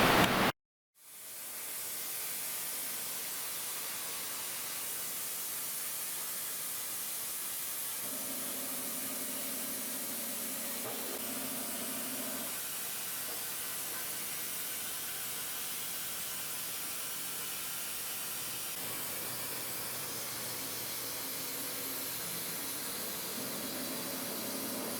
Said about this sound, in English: Let's go over to the CNC, cut another one of these 23 by 2 inch pieces of steel